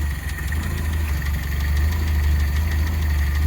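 The engine of a barn-find car, a Volkswagen or Toyota, idles steadily close by during an alternator test, a loud low rumble with a rhythmic knocking pulse and no talking.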